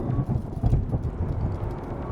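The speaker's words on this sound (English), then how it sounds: "I can't believe this storm." Thunderstorm: a dense, continuous low rumble with heavy rain noise, steady and fairly loud throughout, no voices.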